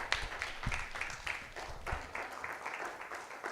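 A church congregation applauding, with steady, fairly dense clapping at moderate volume and some voices mixed in.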